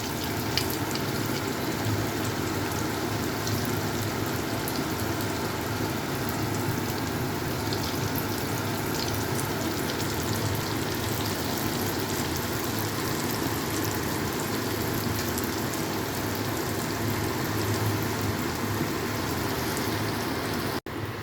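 Doi bora, lentil fritters, frying in hot oil at home: a steady, even sizzle and crackle that continues unbroken, with no one speaking.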